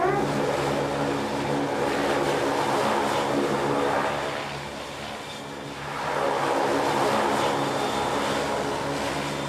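Aircraft aboard the carrier USS Eisenhower give a loud, continuous engine roar that dips briefly midway, then swells back to full strength, with no voices.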